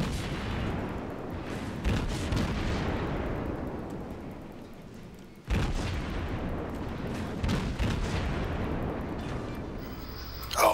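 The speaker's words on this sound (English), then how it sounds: "cool guys do not look at explosions" Naval battle in the video game World of Warships, with heavy booming shell explosions and gunfire rumbling in long decaying waves, two big blasts about five seconds apart and a sharp crack at the end.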